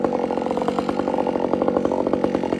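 Chainsaw fitted with an aftermarket muffler cutting through wood, a loud, steady engine snarl with rapid pulsing revs throughout.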